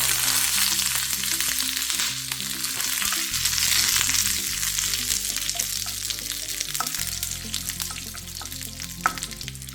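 Curry leaves and red chillies sizzle in hot oil with popped mustard seeds for a sambar tempering, a loud, continuous crackling fry with an underlying hum, without speech.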